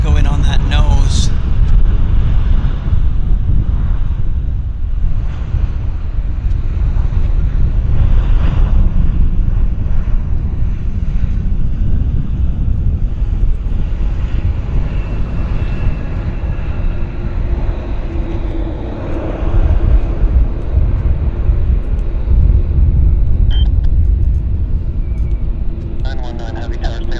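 Heavy jet airliners at Vancouver Airport roar with a deep, sustained low rumble that stays loud and steady throughout, with people talking over it now and then.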